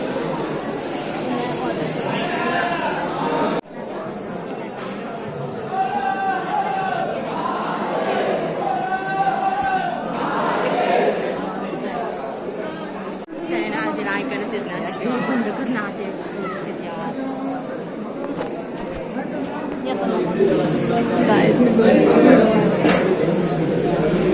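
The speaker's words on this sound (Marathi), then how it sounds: "गर्दी आज खूप" Busy crowd chatter at Bhimashankar temple, a dense hubbub of many overlapping voices close around, steady throughout with a swell toward the end.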